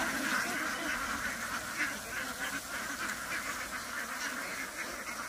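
A large flock of farmed ducks quacks continuously, a dense, overlapping chorus of calls at moderate distance with no talk.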